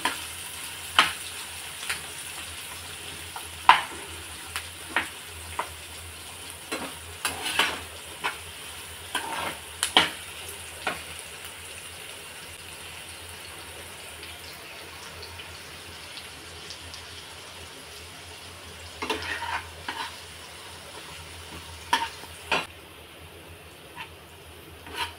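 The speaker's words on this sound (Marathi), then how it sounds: "अशा प्रकारे आता कांदा आपण फ्राय करून घेऊया." Sliced onion frying in a pan on a stove, a steady low sizzle under repeated scraping and clinking strokes of a spoon stirring, close and fairly quiet, with no speech.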